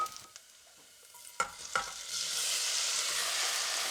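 Minced garlic in olive oil in a saucepan, a few light clinks of a spoon stirring, then a steady bright sizzle that rises and holds close and loud, no talking.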